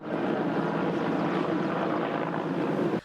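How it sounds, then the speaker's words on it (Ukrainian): Firefighting helicopters shuttle water from nearby ponds to fires, their rotors and engines making a dense, steady roar. The sound holds evenly and then cuts off abruptly at the end. "Гелікоптери набирали воду із найближчих водойм та раз по раз поверталися до вогнищ."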